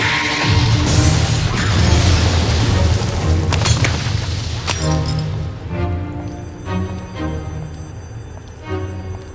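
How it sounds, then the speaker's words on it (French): A loud, booming blast with crashing, shattering debris fills the first half, then fades into ringing clinks and scattered rubble settling. "il y a eu une explosion!"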